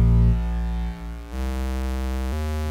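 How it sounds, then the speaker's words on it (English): Raw square wave output from a modular synthesizer oscillator, a buzzy harmonic-rich tone holding steady pitches that step down and shift a few times over under three seconds, with nothing else heard. "Square wave output of the same oscillator"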